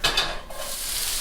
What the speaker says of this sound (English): Hopefully we'll get a nice little sizzle going on there.